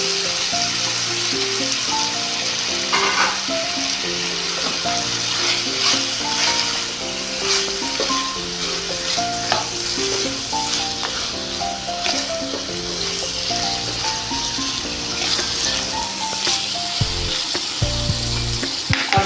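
Chopped capsicum (bell pepper) sizzling in a pan with minced meat, a continuous crackling fry heard under background music with no talking.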